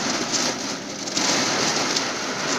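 Heavy rain pours down in a dense, steady, loud hiss of drops hitting surfaces close by, continuous throughout without any voices.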